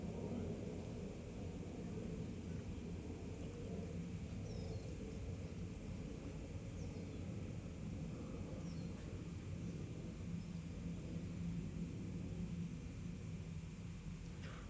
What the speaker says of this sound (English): We'll wait for the aeroplane to go by.